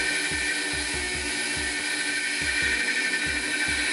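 A shop bench grinder or buffer wheel spins steadily, whining loudly while it removes carbon buildup from a spark plug, with repeated short low thumps as the plug is pressed against the wheel.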